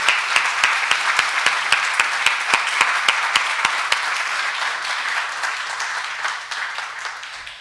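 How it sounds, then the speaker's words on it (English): Audience applause for a public speaker: a crowd claps steadily for several seconds, sharp hand claps fairly close, then thinning out and fading toward the end. "Let's give it a clap for him."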